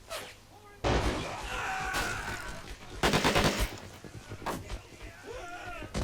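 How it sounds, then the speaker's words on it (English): Machine gun fire in the Army Men of War strategy game crackles in several rapid bursts of different lengths, loud and close, with short pauses and faint battlefield noise between them. "this side is under heavy fire from this machine gun right here"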